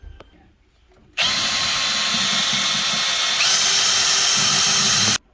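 A power screwdriver whirs loudly for about four seconds, loosening the mounting bolts of an over-the-range microwave, a sustained high whine that steps up slightly in pitch midway, then stops abruptly.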